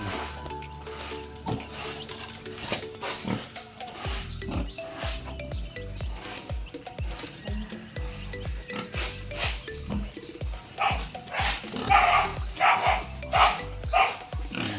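A dog barks repeatedly at a pig pen during feeding time on a small hog farm, with grunting pigs and farm clatter mixed in; the barks come in uneven bursts, moderately close, with no talking.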